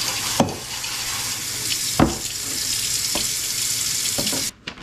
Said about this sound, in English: I like to give mine a good rinse.